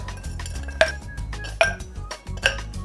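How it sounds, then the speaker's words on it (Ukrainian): Ice cubes dropped into a cocktail glass while preparing a Salty Dog with vodka and grapefruit juice, three bright separate clinks spaced under a second apart over faint background clatter. "Додаємо лід."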